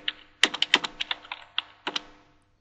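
Rapid, close keystrokes on a computer keyboard as a short comment is typed into a Panorama Necto analytics dashboard, clustered in quick bursts with brief pauses and no talk.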